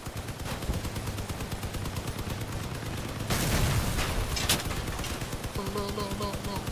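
Rapid vehicle-mounted gunfire in the video game Crossout, a steady stream of fast repeating shots with a louder blast midway, while a person talks over the shooting.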